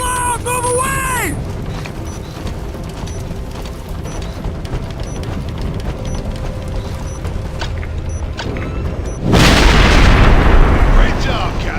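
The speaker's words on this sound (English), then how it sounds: "It's gonna explode!" A loud explosion in the Ghost Recon Advanced Warfighter video game, preceded by shouted voices and game tones, then a sudden heavy roaring blast that rumbles and lingers to the end.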